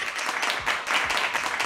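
A live audience claps in steady applause, a dense continuous patter of hands held at an even level for its short length, with no talk over it.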